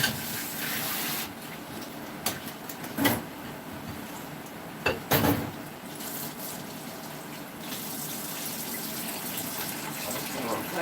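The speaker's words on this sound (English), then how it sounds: "Gonna rinse everything off here a minute." Tap water runs steadily while things are rinsed under it in a home kitchen during chili and cornbread prep, a continuous gushing wash broken by a few brief clatters and splashes.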